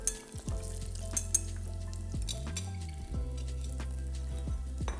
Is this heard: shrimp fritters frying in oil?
yes